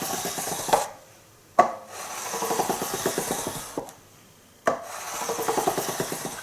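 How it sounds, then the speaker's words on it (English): A sanding block is run along metal guitar frets to level them, giving loud close rasping strokes in a steady back-and-forth rhythm, broken by a few short pauses between passes. "I'm going to take the sanding block and run up this a couple more times."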